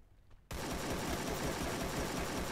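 Rapid, continuous automatic gunfire from a battle royale video game erupts suddenly after a brief quiet moment and keeps going loudly as a dense, unbroken burst.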